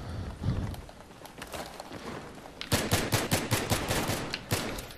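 Battlefield 3 gunfire: scattered shots early on, then a rapid, loud burst of automatic fire in close succession, with quieter shots continuing after it.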